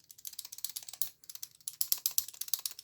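A Marksmith titanium bolt action pen mechanism clicks and ratchets in quick close bursts, with rapid rhythmic metallic ticks in a near-silent room and a short pause partway through.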